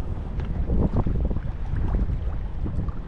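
A small boat's motor runs at sea, a steady low rumbling drone with wind buffeting the microphone, continuous and close throughout, with no talking.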